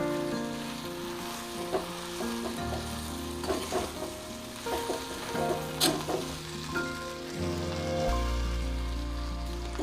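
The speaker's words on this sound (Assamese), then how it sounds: "মই এই ভাজিখিনি আকৌ এবাৰ লৰাই দিছোঁ।" Fish head and bitter eggplant fry in a pan while being stirred, a steady close sizzle with scraping stirs and a louder burst of frying near the end; no talking.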